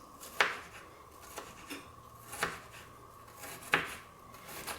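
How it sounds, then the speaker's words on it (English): Knife mincing ginger on a cutting board, with a few sharp chopping taps spaced about a second apart over a faint hum, close and fairly quiet. "So now I'm just giving it a mince."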